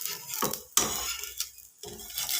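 A thin uttapam loosened from underneath in a pan with a spatula, oiled with white oil, giving soft scraping and scuffing clinks in short bursts close by, with brief quiet gaps.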